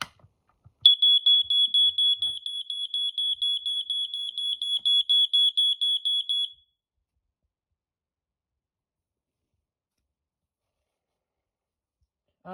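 BRK 86RAC smoke alarm sounds a loud, piercing, rapidly pulsing tone for about six seconds before cutting off into silence, with faint handling clicks just before it starts.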